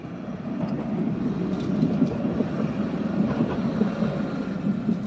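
A Nottingham tram idling or rolling at a tram stop, a steady low rumble and hum heard alone at moderate level.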